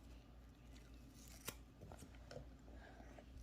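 Scissors snip through a dish scrubber sponge in a few faint close cuts, one sharper snip standing out from the quiet room background, while a crafter prepares to paint autumn maple trees.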